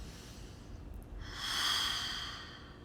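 A single deep breath, a slow inhale through the nose swelling to a soft airy exhale, close and quiet against light room noise.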